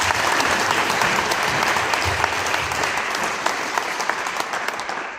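Audience applause fills a church youth service, a dense, sustained clapping from the congregation that holds steady for several seconds before tapering off at the end.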